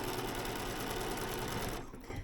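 A sewing machine stitching the hem of a men's snap-front shirt runs in a steady, close, continuous whir, then stops abruptly near the end, leaving quieter handling noise.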